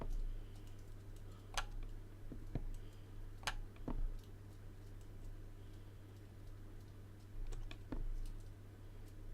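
A computer keyboard is tapped in short, irregular keystrokes while someone plays GTA San Andreas. The clicks come through a steady low hum from the game.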